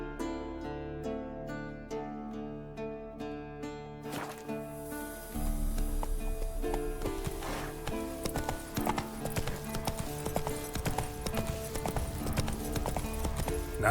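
Roach, a horse in The Witcher 3 video game, gallops with rhythmic hoof clip-clops that are steady at first, then turn louder and busier as the pace picks up, set against tonal background music.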